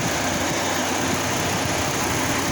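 A car's AC compressor clutch engaged and turning with the engine idling, heard as a steady, loud, broadband hum and whir that holds without a break, close by and with no talk over it.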